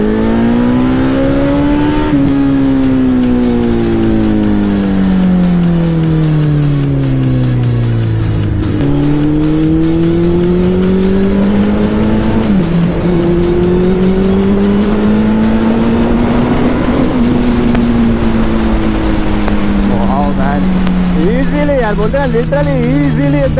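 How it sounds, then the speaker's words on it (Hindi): A Suzuki Hayabusa motorcycle accelerates hard on a highway, its engine note climbing steadily through the gears with sharp drops at each shift, loud and close throughout under constant wind roar. "अभी हम लगे जाएंगे हाईवे में अपने और देखते हैं फर्स्ट गियर पे भूसा कितना टॉप एंड देती है"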